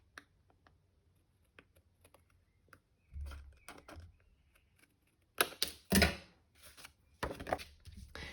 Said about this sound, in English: I'm going to trim this off and then I'll add the sentiment. So just grab some scissors.